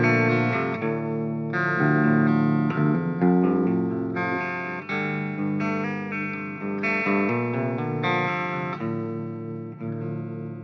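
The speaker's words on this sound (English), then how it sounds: "So 7-string guitar, we are in a drop tuning, and this is our bass signal." A seven-string electric guitar in a low drop tuning, played clean, plays a steady riff of deep, ringing notes and chords, loud and alone with no voices.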